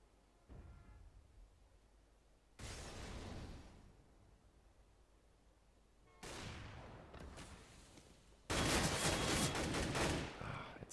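AWP sniper rifle fire in Counter-Strike on the map de_train during an esports match: several loud, abrupt bursts of gunfire and noise separated by quieter stretches, with faint talk in the background.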